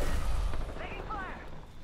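Gunfire in the Apex Legends video game, a few dull booming shots at the start, then metallic whooshing and mechanical effects at moderate level.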